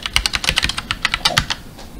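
Typing on a computer keyboard while setting up a user account, a quick run of about twenty close, crisp keystrokes in an uneven rhythm, heard alone.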